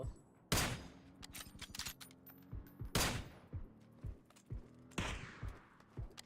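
Gunfire in the game PUBG: three loud volleys of rapid shots, each a dense burst trailed by a string of individual cracks, separated by short pauses, with no talking.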